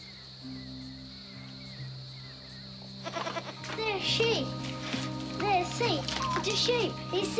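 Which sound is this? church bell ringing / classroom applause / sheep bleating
sheep bleating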